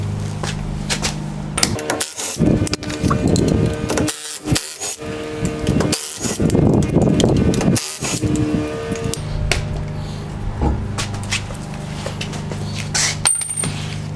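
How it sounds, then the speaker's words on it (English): A wheel being taken off a vehicle's rear axle, with close metallic clinks, rattles and knocks of lug nuts and tools, plus rubbing and scraping as the wheel shifts, busy and fairly loud throughout. "First, I'm going to take off the wheel."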